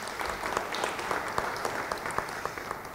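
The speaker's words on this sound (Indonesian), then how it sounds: "Beri tepuk tangan bagi dia." A church congregation at a Bible study service gives a short round of applause: dense, steady hand clapping from a group that continues evenly for a few seconds, with no voices over it.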